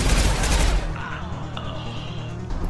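Gunfire in the video game Mass Effect 2: a dense, loud burst of rapid shots for under a second, then it cuts to a quieter background with faint scattered sounds.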